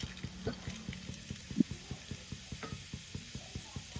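Urad dal and chana dal frying in hot oil, a steady rhythmic crackle and sizzle with regular stirring scrapes close up, no talking.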